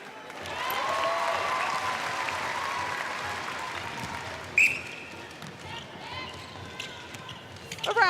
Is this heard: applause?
yes